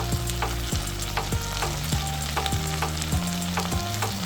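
Ingredients such as ginger garlic paste and spring onion sizzle steadily in a pan while a utensil stirs and scrapes at regular intervals, close and continuous with no talking.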